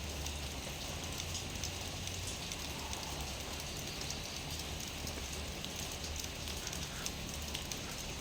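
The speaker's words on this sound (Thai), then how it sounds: "พาชมบรรยากาศยามเช้าฝนตกนะครับ" Morning rain falls steadily over a durian orchard, a soft, even hiss of drops on leaves and ground that holds constant and fairly faint throughout, with no voices.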